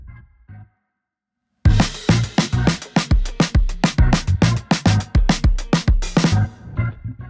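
A drum kit plays a fast linear groove with uneven, poorly controlled dynamics: a dense run of loud, punchy hits with kick, snare and cymbal crashes, close and heavy. Silence comes first, after a short faint sound at the start.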